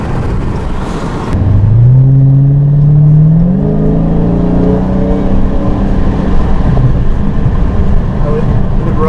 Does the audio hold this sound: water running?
no